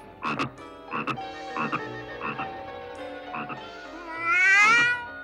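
A cartoon toad in a Smurfs episode gives a string of six evenly spaced, throaty croaks, then a louder, drawn-out rising croak, close and clear with no talk over it.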